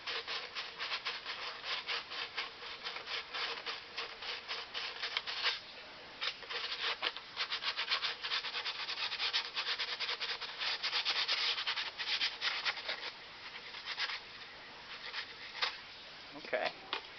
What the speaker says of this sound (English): I'm going to continue sanding through here and up through